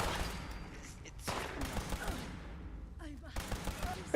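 Gunfire from a weapon in Fallout 76 comes as rapid bursts of repeated shots, separated by short pauses and mixed with someone talking over the game audio.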